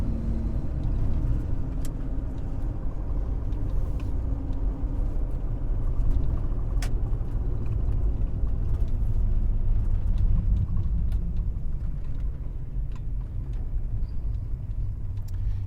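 A restored, lifted 1991 Dodge Ramcharger with a full exhaust system rumbles steadily and deeply from close by, a continuous low drone with slight swells and no voices.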